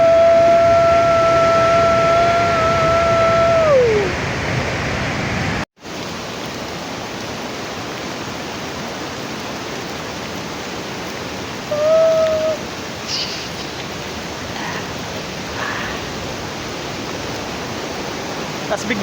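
Pagsanjan Falls, now called Cavinti Falls, a waterfall in the Philippines, roars in a steady, dense rush of water from start to finish, broken only by a momentary dropout. A sustained whistle-like tone rides over the first few seconds, with faint brief tones later.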